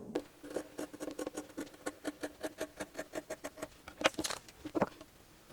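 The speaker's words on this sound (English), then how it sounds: "then take scissors and cut it off" Scissors snip through quilting fabric in quick, regular close-up cuts, a rhythmic series of crisp faint clicks with a few louder snips near the end.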